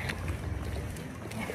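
Boat carrying passengers out to an island, a steady low engine rumble with wind and water noise running continuously throughout, fairly loud and close, with no talk over it.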